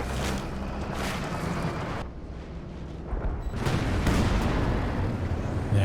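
Howitzer artillery fires in Company of Heroes 2, a real-time strategy battle on a forest map: a few heavy, booming blasts over a rumbling battlefield backdrop, with no clear talking.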